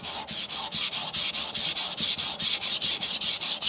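A knife bevel with a copper element being ground by hand on a Sun Tiger GC220 grit stone: a fast, even series of rasping strokes, around five per second, close and fairly loud with no talking.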